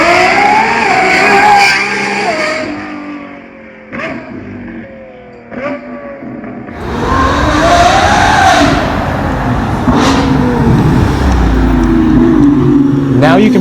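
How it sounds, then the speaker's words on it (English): A Lamborghini Revuelto's full exhaust system revs in several sharp rising bursts, then roars loudly as the engine climbs and holds at high revs. "you can see this stunning Lamborghini Revuelto full exhaust system."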